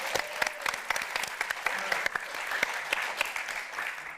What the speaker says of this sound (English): another round of applause for our wonderful performers at the top of the show tonight